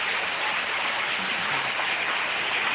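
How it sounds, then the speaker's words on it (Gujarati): Heavy rain pours down in Patan, a steady, dense hiss that holds evenly loud and close for the whole stretch, with no voices breaking through. "વરસાદ પડી રહ્યો છે આજે"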